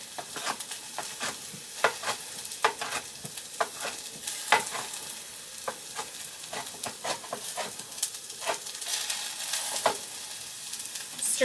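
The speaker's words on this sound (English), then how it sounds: "Stir these so they don't burn." Ingredients for kimchi jjigae stirred and frying in a pan, a steady sizzle broken by repeated scraping strokes of the spoon across the pan surface, close and moderately loud with no voices.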